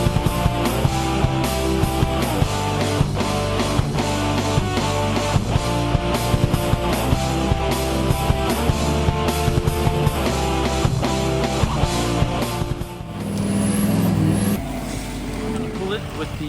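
A skid steer's diesel engine drones steadily and loudly at close range while dragging a shipping container across a ranch hillside, with a rhythmic clatter throughout and a shift in tone near the end as a voice talks over it.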